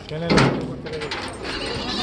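Goats bleat at a weekly Saturday goat market held in a village grain-market yard, with a loud, wavering bleat early on over steady crowd chatter and nearby voices.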